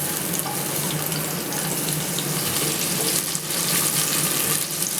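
Chopped onion fries in hot oil with a loud, dense, steady hiss that fills the whole stretch without pause.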